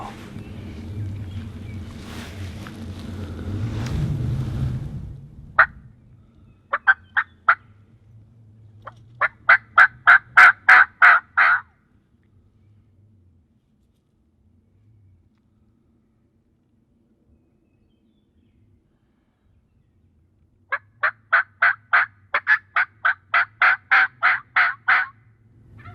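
Wild turkey toms in South Dakota sound off in two loud bursts of rapid, rattling calls, separated by a long stretch of quiet.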